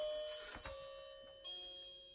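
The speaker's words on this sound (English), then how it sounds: "Interrupting clock, ladies and gentlemen." A clock in a room chimes once, a single bright metallic ring that fades slowly, with a softer second stroke following a moment later, clear and fairly close.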